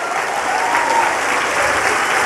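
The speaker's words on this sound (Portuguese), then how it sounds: "Aplauda Jesus pela vida deles." Sustained applause from a large church congregation welcoming flood survivors from Rio Grande do Sul, a dense, steady wash of clapping that fills the whole moment without letting up.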